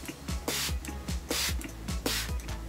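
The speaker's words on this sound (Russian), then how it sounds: "И в завершение брызгаю тонером на лицо." Facial toner misted from a spray bottle onto the face, heard as several short hissing bursts in an irregular rhythm, close and fairly loud, with no talking.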